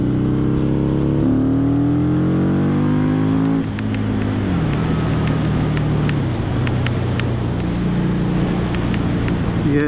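A Harley-Davidson motorcycle engine pulls hard while overtaking on the road, its loud steady tone climbing through the gears and then settling into a sustained drone with wind rush, no talking.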